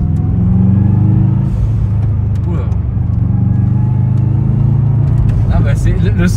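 Subaru Impreza P1 engine droning steadily while driving, a loud low rumble heard from inside the car, with people talking over it.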